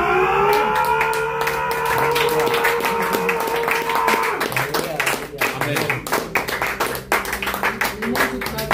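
A church congregation in Lyon breaks into rhythmic clapping and loud cheering during worship, sustained vocal acclamation giving way to brisk, uneven applause that carries on steadily.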